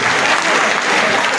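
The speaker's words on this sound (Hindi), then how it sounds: "एक बार जोरदार तालियां" Loud, dense applause fills a ceremony hall, a continuous roar of clapping from a large crowd that stays at full strength throughout.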